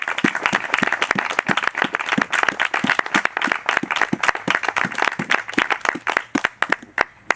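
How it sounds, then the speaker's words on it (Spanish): A live audience at a poetry event breaks into loud, close applause, many hands clapping in a dense, sustained burst that thins toward the end into a few scattered claps. "Ahora sí podemos aplaudir, ¿no?"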